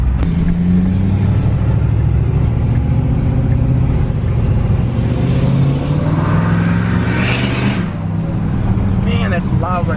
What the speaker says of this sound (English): this is the only time you ever can hear a turbo in this truck